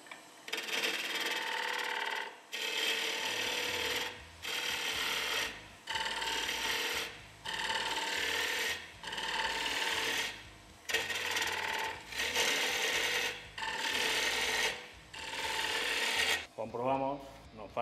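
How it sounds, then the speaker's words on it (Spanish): Sandpaper rasps against a turned wooden plate in a run of repeated, fairly loud scrubbing strokes about a second long, separated by brief pauses and ending with a short clatter. "Le daremos un poquito de lija"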